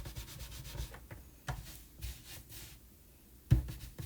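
A rubber stamp being rubbed clean, heard as soft, close scrubbing strokes in an irregular rhythm with a sharper knock near the end; no talking.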